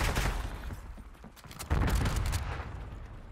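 Gunfire in the video game Black Ops 6: a series of close, punchy shots and bursts with booming low end, a lull midway, then heavier firing resuming; no talk.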